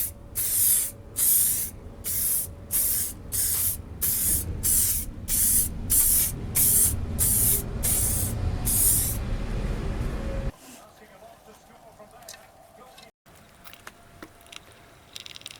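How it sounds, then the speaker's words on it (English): Clear lacquer sprayed from a rattle can onto an engraved wooden dog lead hook board, a series of about a dozen short hissing bursts with brief gaps, then a long continuous spray before it stops and quiet room noise remains. "It received a few cheeky coats of clear lacquer from a rattle can."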